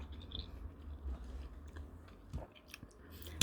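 Quiet close chewing of a homemade diet dish, soft moist crunches and bites spaced irregularly over a low background hum, with no talking.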